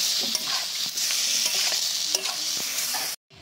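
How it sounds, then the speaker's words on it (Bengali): Ground spices sauté with a splash of water in a wok, hissing and sputtering up close while a spatula scrapes and stirs repeatedly, then the sound cuts off abruptly. "কড়াইতে একটু জল দিয়ে ভালোভাবে কষিয়ে নেব।"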